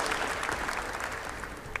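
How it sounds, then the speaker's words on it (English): A summit audience applauds steadily, dense clapping filling the short moment at a moderate, even level without any voices. "A round of applause for Chandni Guru, please."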